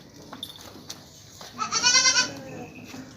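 A heavy cross-breed milking goat at a sale in Lahore lets out one loud, close, wavering bleat lasting about half a second amid quiet surroundings.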